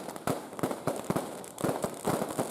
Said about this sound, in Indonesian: menyaksikan pesta kembang api.